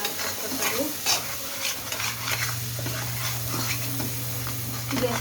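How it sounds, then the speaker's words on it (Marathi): Masala with turmeric stirred and sautéed in a pan, with a close, steady sizzle and repeated scraping strokes of a spoon against the pan, plus a low hum running underneath. "वरची वरची मसाला वगैरे होता ना हळद वगैरे टाकलेलं तेच आपण परतून घ्यायचं आहे"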